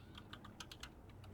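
Quick clicks of typing on a computer keyboard, about a dozen light keystrokes in an irregular rhythm, close and fairly quiet over a low hum.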